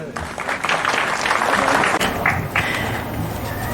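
Crowd applause at a Didim Ahi Week ceremony honouring local tradesmen: a dense burst of clapping from an assembled audience, fairly loud and sustained, tapering slightly toward the end.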